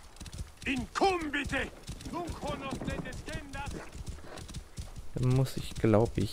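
Rhythmic clip-clopping of horse hooves during riding in Assassin's Creed Origins, steady throughout and mostly underneath someone talking in German.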